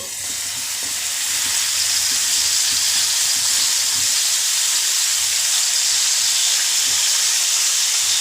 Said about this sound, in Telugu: వంకాయలన్నీ ఇలా నూనెలో ఫ్రై చేసుకోవాలండి